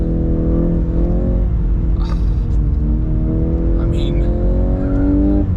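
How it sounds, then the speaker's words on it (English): A Volkswagen Golf R 20th Anniversary slides through big skids, its engine holding a loud steady drone with pitch dipping and rising, tyre noise flaring now and then, while someone talks briefly over it. "who said a Golf R doesn't do big skids? It's just mega."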